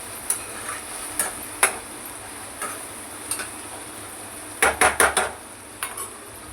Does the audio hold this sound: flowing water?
no